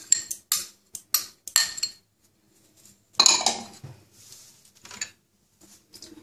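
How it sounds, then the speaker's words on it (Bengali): Spoon clinking and scraping in a bowl while onion, ginger and garlic pastes are mixed into sour curd: a few sharp separate clinks, then a longer scraping stir, then a couple of softer taps, all close and alone. "সব মশলাগুলো মেশাবো।"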